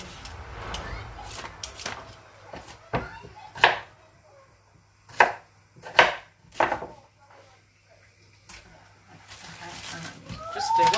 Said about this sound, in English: Chop that off.